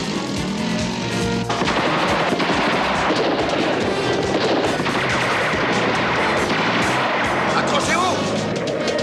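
Rapid gunfire aimed at a car's tires during a stunt-show chase, dense volleys of shots over a loud running engine with voices shouting throughout.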